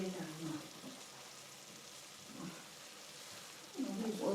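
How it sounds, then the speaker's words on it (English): Onion and pork fry in a little oil in a pot, a faint, steady sizzle with brief louder surges as the pieces are moved, and no voices. "add 1 or 2 tablespoons of oil to the pot to help the onion and the pork fry."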